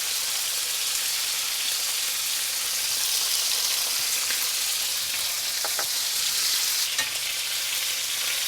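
Seasoned chicken pieces fry and brown in a hot pan, a steady close sizzle that holds evenly throughout with occasional sharper pops and crackles, no voices over it.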